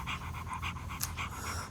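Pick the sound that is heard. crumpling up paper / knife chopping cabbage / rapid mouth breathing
rapid mouth breathing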